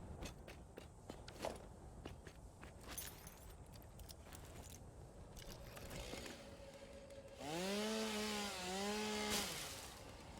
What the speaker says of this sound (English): Hovering in the air with the chainsaw.